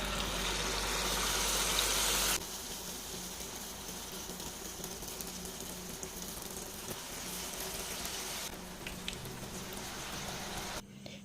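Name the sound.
banana fritters (pazham pori) frying in hot oil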